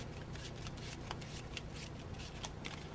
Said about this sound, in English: I'll keep shuffling it in there.